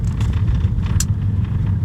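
A 2017 Ford Focus Electric car rolls through a residential neighborhood on a Saturday morning, giving a steady low road rumble and tire noise with a brief faint hiss partway through.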